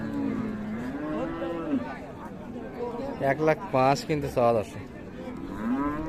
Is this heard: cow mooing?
yes